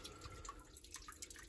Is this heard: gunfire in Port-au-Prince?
no